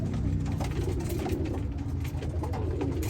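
Racing pigeons and Birmingham roller pigeons coo continuously in a flock, their overlapping, throaty calls forming a close, steady murmur with no talking.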